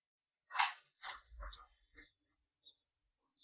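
A voice imitates a yapping dog with a series of short, sharp yips and barks, fairly faint and alone.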